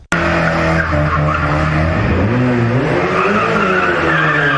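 An old Tofaş car skids with a loud, sustained tire squeal and sliding road noise, pitch wavering as the car slides, heard close and alone before crashing into an electric pole.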